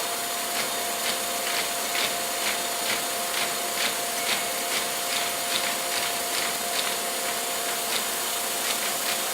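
Rossback book stitching and trimming machine running steadily, a continuous mechanical hum with a regular rapid clatter of repeating strokes, fairly close, no voices.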